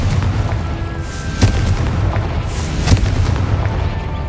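Explosive Confringo spell blasts in the Hogwarts Legacy video game, with a couple of sharp booms over a dense, continuous rumble of game action and no talk.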